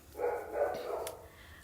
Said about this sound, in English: And here goes my dogs.